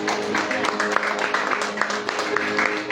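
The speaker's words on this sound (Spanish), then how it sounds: "Dale un fuerte aplauso al Señor" Applause for the Lord during a Spanish-language church service: dense, steady clapping from a congregation filling the space throughout, with voices mixed in.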